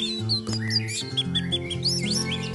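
Several kept orange-headed thrushes (anis merah) sing close by in a busy mix of whistled phrases, sharp chirps and quick rising notes, layered over a low steady hum.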